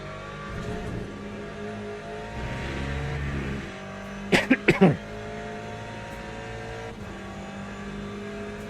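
Hypercar and GTE race cars lapping Monza in wet conditions in Le Mans Ultimate, with a steady engine drone, a low rumble swelling midway and a brief cluster of sharp bursts, all without speech.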